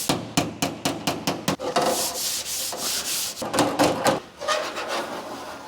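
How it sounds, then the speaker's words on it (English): A DA sander fitted with 80-grit paper sands primer over Bondo on a mini truck, starting with a quick series of rhythmic scraping strokes, then settling into a continuous close, harsh abrasive rasp. "I'm using 80 grit on a DA, sand this primer down"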